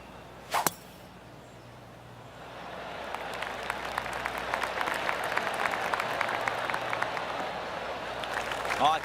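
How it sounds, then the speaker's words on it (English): Golf spectators at a professional tournament's opening round clap politely around the course, a sharp crack early on, then soft scattered clapping building into steady, moderately distant applause. "Oh, I can hear the golf claps around the course."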